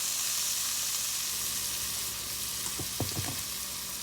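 Garlic and black pepper sizzle steadily in a hot pan, a loud continuous frying hiss, with a few scraping knocks as a utensil stirs near the end.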